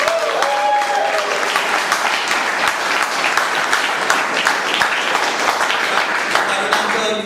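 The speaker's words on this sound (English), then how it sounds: "Let's give it a huge round of applause" A farewell gathering bursts into hearty audience applause, dense continuous clapping from many hands at close range, steady and loud throughout with a few faint voices mixed in.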